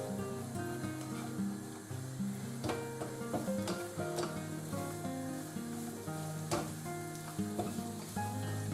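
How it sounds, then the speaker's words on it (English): Sliced onions sizzle and fry steadily in a pan for beef stroganoff, a close, continuous crackle with occasional stirring scrapes and a low hum beneath. "That's the sliced onions in there. We'll get them softened up, so we'll cook them for about 4 minutes or so"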